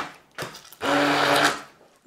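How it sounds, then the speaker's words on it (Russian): An immersion blender pureeing raw potato batter for a pork-chop coating, with a brief whir followed by a longer steady buzzing run that winds down, heard close up. "Нужно погружным блендером измельчить."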